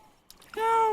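A cat gives a single short meow near the end of a brief, otherwise quiet outdoor moment near water, after a couple of faint knocks.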